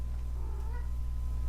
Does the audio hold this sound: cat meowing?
yes